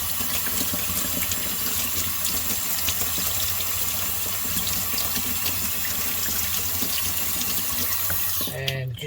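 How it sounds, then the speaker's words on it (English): A washing machine filter is rinsed under a running water tap, producing a steady, loud gush that continues throughout, with a short burst of speech at the end. "just get a rinse under the tap before you put it back in"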